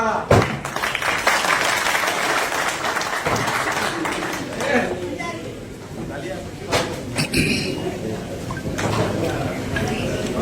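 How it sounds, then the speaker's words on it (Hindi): Crowd applause at a festive gathering: clapping from many hands swells and then eases while people talk loudly over it, with a few sharp knocks standing out. "तालियां।"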